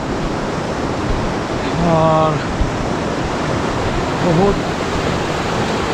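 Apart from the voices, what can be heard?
rushing river water in Leepa Valley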